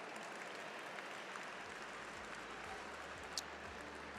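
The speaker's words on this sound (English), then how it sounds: "Can you give yourselves a round of applause?" Steady, even applause from an audience at a 2024 annual dinner, a dense continuous patter of many hands clapping, fairly faint and unbroken throughout with no voices over it.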